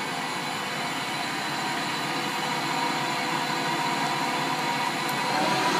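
Fryer 18 x 40 inch CNC/manual lathe running at 750 RPM, a steady continuous mechanical whir and hum with even tone and level throughout, heard alone without talk.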